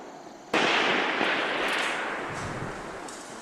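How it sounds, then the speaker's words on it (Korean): A Republic of Korea Army sniper rifle fires during night training. One sharp, loud shot cracks, then a long echoing tail fades slowly, with no speech. "어둠을 뚫고 울려 퍼진 총성."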